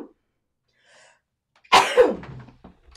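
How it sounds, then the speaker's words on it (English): A single sharp sneeze from a person at a crafting table, a quick intake followed by a loud burst that trails off, after near silence. "Oh, I'm gonna sneeze, hold on."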